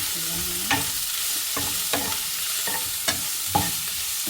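Sliced onions sautéing in hot oil in a pan for a stuffed chicken filling, with a steady soft sizzle broken by several sharp scraping stirs of a spoon at irregular intervals, close and alone.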